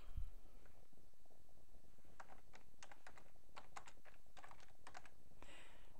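A computer keyboard being typed on: a quiet run of light, irregular key clicks in short bursts, close by with no talking.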